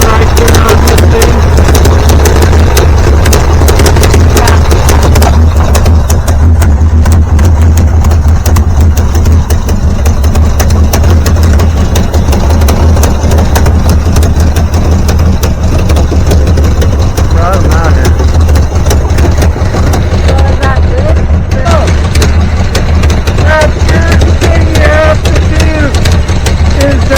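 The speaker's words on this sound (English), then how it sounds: "Have it idling under 700 RPM." A car engine idles during a tune-up with a low, steady rumble that runs loud and unbroken throughout, while people talk over it.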